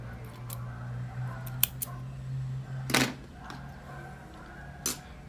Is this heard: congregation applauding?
no